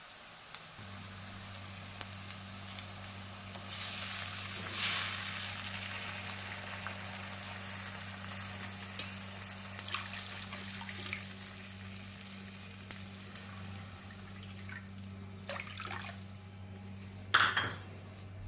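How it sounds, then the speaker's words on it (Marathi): Water, one and a half bowls, pours steadily into a hot pan of roasted semolina with a low sizzle and a constant low hum, ending in a brief clatter. "आता आपण वाटीच्या मापाने दीड वाटी पाणी टाकणार आहोत"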